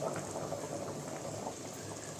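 Water going into a pan of dried masala on the stove, a steady bubbling and hissing of liquid that holds at a constant level throughout without any voices.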